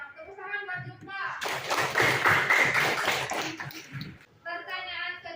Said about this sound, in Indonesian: Tepuk tangan buat Jumpa